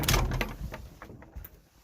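A door is opened on a mountain hike shelter in the morning, a short scraping and knocking burst up close that fades into quieter creaks.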